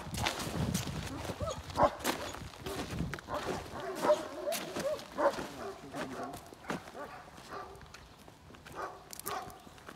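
A large dog gives a few scattered barks outdoors in hot weather, mixed with movement and footsteps, while people talk nearby.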